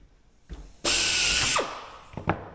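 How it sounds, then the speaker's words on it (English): A loud pneumatic air drill whirs steadily for under a second, then winds down, with a couple of short clicks afterward, during work on an aircraft rudder. "why use the air drill?"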